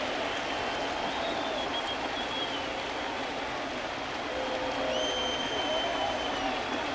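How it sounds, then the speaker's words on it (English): A sellout baseball crowd at Fenway Park during a Yankees versus Red Sox game, a broad steady wash of cheering and applause, distant and continuous with faint whistles rising above it. "Sellout crowd here at Fenway Park."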